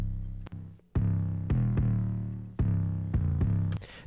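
A distorted 808 bass plays in a music production session, repeated deep, gritty booming notes struck in an uneven rhythm, each decaying before the next hit, loud and alone.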